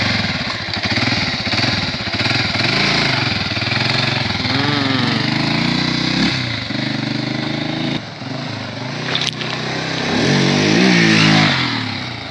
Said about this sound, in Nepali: ल अब बाइक धनीले चाहिँ बाइक चलाउँदैछ है।